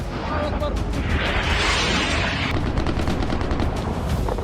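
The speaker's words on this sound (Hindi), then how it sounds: "घनी आबादी वाले क्षेत्रों में तोप और दूसरे भारी हथियार इस्तेमाल हो रहे हैं।" Artillery and heavy weapons fire in a Sudan conflict zone, heard as a dense, continuous roar of blasts and crackling gunfire with a broad rushing swell in the middle, loud throughout.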